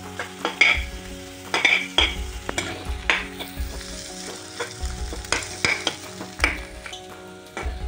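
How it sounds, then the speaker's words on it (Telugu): Egg bhurji being stirred and fried in a pan over a high flame in a dhaba-style preparation, with a steady sizzle and repeated scraping stirs at a close, moderate level, no talking. "స్లోలీ ఇలా హై ఫ్లేమ్లో ఇలాగా కలుపుకోవాలి"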